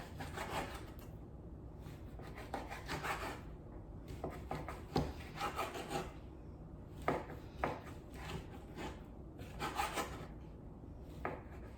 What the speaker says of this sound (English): We are just gonna cut these into bite-sized pieces.